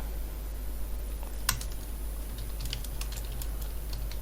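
Light keystrokes on a computer keyboard while writing Android app code, a quiet irregular run of clicks with one sharper tap early on, over a low steady hum and with nobody speaking.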